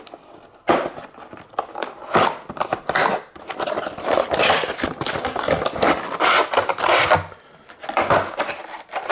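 A Walmart 6-piece knife set is torn out of its packaging, with close, loud bursts of ripping, crinkling plastic and cardboard scraping in irregular handling bursts.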